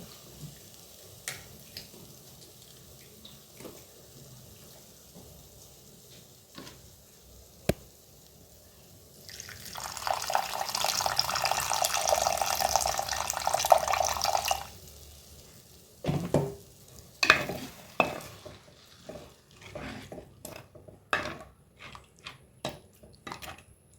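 Tamarind water is poured into a cooking pot, giving a steady liquid pouring rush for about five seconds in the middle, framed by faint drips and clinks of utensils before and sharper knocks and stirring after.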